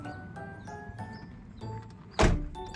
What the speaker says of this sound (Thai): ส่วนเสียงของประตูเวลาเปิดปิดนะครับ เสียงก็เพาะๆนะครับ เสียงแน่นทุกบาน